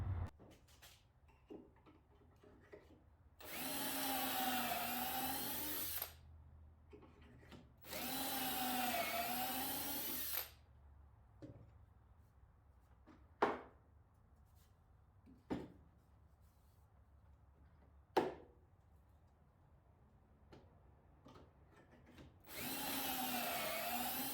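A power drill with a step drill bit boring into wood for a mobile storage cart: four loud, sustained whining bursts with rising pitch, separated by quiet gaps of sharp clicks and taps from handling, with no talking.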